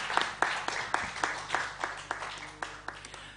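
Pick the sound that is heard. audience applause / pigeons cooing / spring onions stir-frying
audience applause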